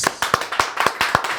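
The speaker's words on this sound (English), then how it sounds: "Can I get a clap from the audience?" A handful of audience members clap in a loose, uneven pattern, about eight sharp nearby claps spread over a second and a half, with faint room noise between them.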